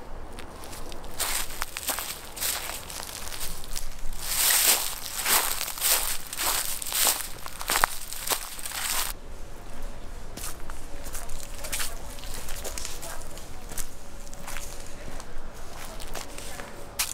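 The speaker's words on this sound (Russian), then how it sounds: "очень классная локация в плане ходьба по листве" Footsteps crunching and rustling through fallen leaves on an outdoor field-recording location, a steady run of close, crisp steps that thin into quieter shuffling partway through, with no talk.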